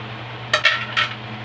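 Lomi ingredients such as squid balls and pechay drop into a cooking pot with three quick splashing clatters in close succession, close and fairly loud over a low steady hum.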